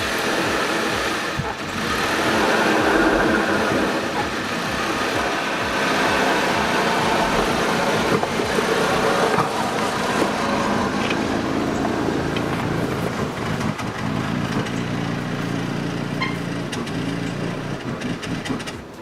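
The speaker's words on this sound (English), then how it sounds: "had a bit of a misfire" A turbocharged Audi wagon engine runs with a misfire, a loud, steady rumble holding through the whole stretch with an uneven, lumpy low-end pulse and no talk over it.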